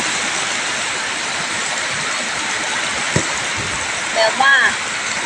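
Heavy rain pours down during a storm in a dense, steady hiss that never lets up, while someone speaks briefly close by.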